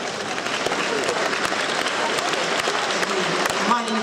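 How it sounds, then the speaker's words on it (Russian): A concert crowd gives a small round of applause, clapping steadily throughout, a dense patter of many hands at moderate volume, with a voice briefly audible near the end. "Маленькие аплодисменты."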